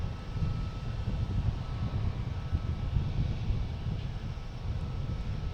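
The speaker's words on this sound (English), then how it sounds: "We got planes flying over us." A Delta Embraer E175 airliner from LaGuardia passes over Boston Logan airport as a steady, broad low roar that holds evenly throughout, blended with wind buffeting the microphone.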